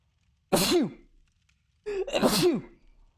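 Two sharp sneezes about a second apart, close and fairly loud against near silence, the second preceded by a brief sharp inhale.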